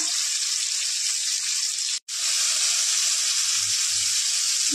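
Fennel seeds, black cumin and slit green chillies sizzle loudly in hot oil in a pan, a steady close hiss that cuts out briefly once before resuming.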